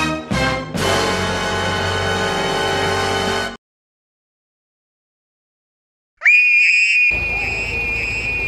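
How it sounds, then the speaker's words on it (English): A person screams loudly in a long, strained, high-pitched wail that cuts off into silence, then a second piercing scream erupts and trails into a rougher cry. "then I will scream"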